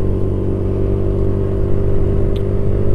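A car on the road to Bromo rumbles by with a steady low engine hum, loud and close, with no talking.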